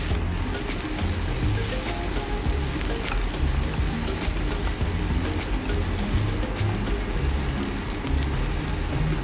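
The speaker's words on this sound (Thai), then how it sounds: "ใส่หมู สามชั้นลงไปเลยค่ะนะคะ ผัดให้สุกค่ะ" Pork belly stir-frying in a pan with garlic gives a steady, loud, unbroken sizzle and crackle, alone with no talk.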